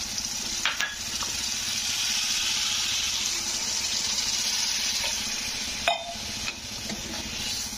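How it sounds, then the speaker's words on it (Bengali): Water goes into a simmering fish roe curry gravy, giving a steady, broad hiss and sizzle with a few clinks of a utensil, close and continuous. "তো সামান্য জল দিয়ে দিলাম।"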